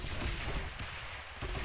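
Cannon towers fire in the Rogue Tower video game, a dense rumbling barrage of booming shots that rolls on continuously and loud, with a brief dip before the firing swells again.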